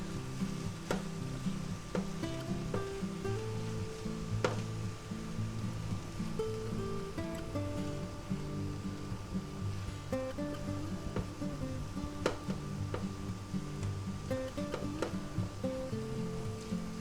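Peppers and onions fry in a hot pan beside ham and egg for a sandwich, a steady close sizzle with occasional clinks of a utensil stirring, no talking over it.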